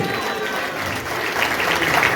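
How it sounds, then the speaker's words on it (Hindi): Congregation at a thanksgiving prayer service clapping together to thank the Lord, a dense, steady burst of applause with some cheering that swells slightly toward the end. "ताली बजा के प्रभु को धन्यवाद दे।"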